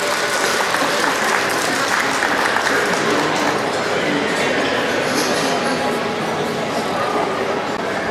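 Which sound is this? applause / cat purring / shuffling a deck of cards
applause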